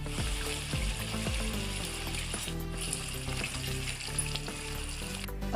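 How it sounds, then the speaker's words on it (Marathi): Pakoda fritters sizzle and bubble as they drop into a kadhai of boiling bhaji gravy, a continuous close frying hiss with faint stirring. "भाजीला आपल्या उकळी आली आहे, त्याच्यामध्ये मी भजी सोडते"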